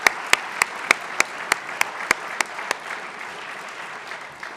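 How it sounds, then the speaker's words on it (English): Audience applause for the seniors at a school Capstone Day: a run of sharp, evenly spaced loud claps leads off over softer scattered clapping, which then settles into a thinner, fading patter. "Please give them a round of applause."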